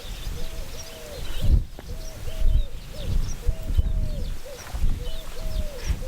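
Pigeons call beside the Church of Santa Maria along the Camino Francés between Frómista and Carrión de los Condes, clear repeated coos and chirps in a close, steady series over soft outdoor ambience and occasional footsteps.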